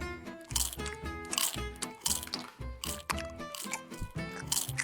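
Someone bites into a donut cut in half and chews, repeated crunchy, squishy bites and mouth sounds in a steady rhythm, close to the microphone, with music playing underneath.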